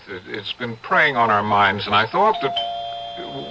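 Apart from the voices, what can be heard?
doorbell ringing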